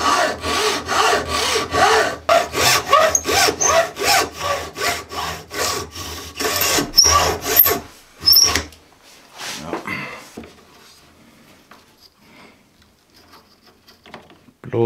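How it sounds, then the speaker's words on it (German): Rapid back-and-forth hacksaw strokes cut through wood for several seconds, then slow and stop, leaving quieter scraping and handling noises. "Ich mache das jetzt hier mit der Metallsäge, weil das nämlich feinere Zähne hat."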